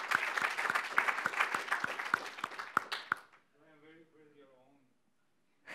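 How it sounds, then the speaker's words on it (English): A conference audience applauds its outstanding contributors. Several seconds of dense clapping come first, loud and close, then they die away as a voice begins speaking. "So just a quick round of applause again for our outstanding contributors."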